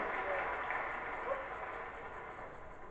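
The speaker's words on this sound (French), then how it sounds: "On peut l'applaudir plus et fort" Applause from an audience at a live lotto show, a steady wash of clapping that fades slightly toward the end, with no distinct voices over it.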